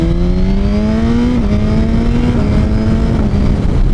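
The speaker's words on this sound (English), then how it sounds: "here we are just kind of fanning through the gears" A liter bike motorcycle engine runs up through the gears on partial throttle, its loud close drone rising in pitch, dropping briefly at each of two quick shifts, then climbing again, with no talk.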